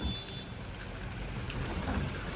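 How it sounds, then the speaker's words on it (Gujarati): Heavy rain during travel to the Ambaji Bhadarvi Poonam fair, a constant dense wash of downpour close by with a low rumble underneath, no voices. "તમે જોઈ શકો છો, જોરદાર વરસાદ છે."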